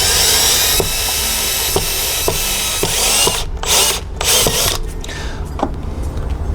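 Screws being driven into a Ring Doorbell Plus camera mount, a steady close-up whirring with repeated ratcheting clicks at regular intervals, then shorter bursts near the end.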